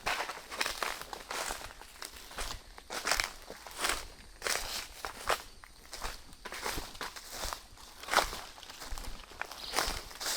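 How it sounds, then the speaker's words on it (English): Crunching footsteps of someone walking outdoors in the field, a steady uneven rhythm of close, gritty crackling steps with no talk. "I imagine that crunching is kind of loud."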